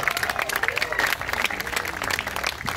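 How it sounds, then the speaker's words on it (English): Sustained audience applause from a crowd at the Manhunt International 2022 male pageant finale, dense steady clapping with some voices mixed in throughout. "Big round of applause for him."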